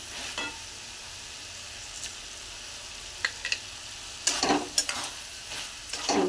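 Potatoes and banana flower with sugar being stirred in a frying pan, a soft low sizzle broken by several sharp scraping strokes of a spatula, close and without talk.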